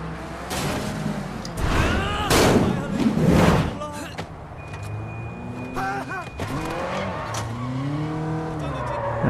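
A car being driven hard in the video game Sleeping Dogs, with engine roar and loud squealing tire skids through the middle and later stretches, close and prominent, while someone talks over it.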